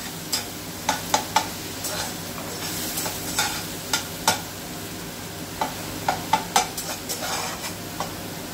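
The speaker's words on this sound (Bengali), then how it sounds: "পেঁয়াজটাকে আমি ভালো করে ভেজে নেব।" Onions frying in a pan give a steady sizzle, broken by sharp scraping clicks as a spatula stirs them at irregular intervals, close and clear with no talking.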